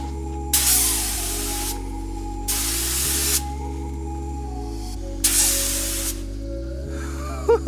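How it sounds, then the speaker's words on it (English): Paint sprayed onto a boat during maintenance, three long bursts of hissing spray separated by pauses, over a steady low mechanical hum, close and loud. "I think the paint match is like perfect, and I think my spraying was okay."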